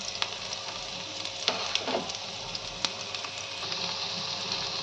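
Young jackfruit pieces and peas fry in hot oil, giving a steady, close crackling sizzle with a few sharp spatters and light stirring clicks throughout, with no voices.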